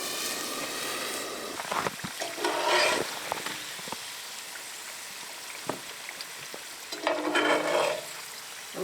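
Food frying in a pan until crispy at a winter cabin in the boreal forest, a soft crackling sizzle with bursts of louder stirring and scraping, close and steady with no talk.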